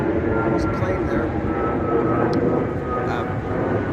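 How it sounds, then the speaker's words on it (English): An airplane passes overhead outside a Mexican restaurant in Las Vegas, its steady broadband engine roar filling the background throughout, with people talking over it. "There's a plane there."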